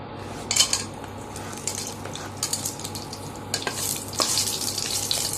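Whole spices sizzle in hot ghee in a pan for Kerala-style ghee rice, a steady close crackle broken by scraping stirs and clinks of a spoon against the pan.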